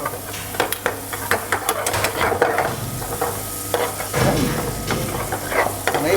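Masala for a mud crab ghee roast fries in a busy restaurant kitchen, giving a loud continuous sizzle under repeated scraping and stirring strokes in the pan, close and steady, with a low hum behind it.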